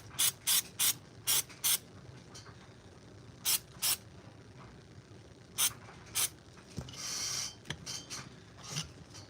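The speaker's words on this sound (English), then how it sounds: "We'll spray some activator here." Several short, sharp spray bursts from an aerosol can of CA glue activator come in quick groups, followed by a longer hiss near the end, close and fairly quiet.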